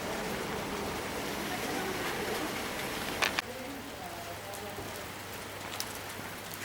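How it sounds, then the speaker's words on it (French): Heavy rain falls during a road trip in the mountains, a steady hiss with patter on nearby surfaces, fairly faint, with a brief knock partway through and a low hum joining afterward. "Mais il pleut beaucoup là."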